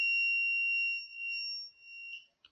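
Homemade Arduino theft alarm with a PIR sensor, a single clean high-pitched electronic tone held steadily for about two seconds, then dipping and cutting off with a short blip, no voices.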